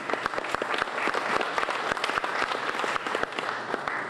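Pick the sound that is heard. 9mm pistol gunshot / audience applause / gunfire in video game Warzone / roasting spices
audience applause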